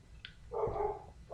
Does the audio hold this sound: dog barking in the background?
yes